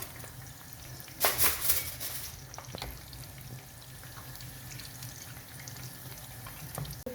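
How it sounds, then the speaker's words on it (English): Meat and chicken frying in a pot for Nigerian party jollof rice, a steady close sizzle with a brief louder spitting burst early on, then a quieter continuous crackle without talk. "as I wait for the meat to be frying"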